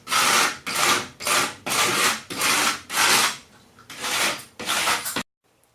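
A hand rasp files wood in eight rough, rhythmic strokes, each a loud close scraping rasp with short pauses between, then it stops.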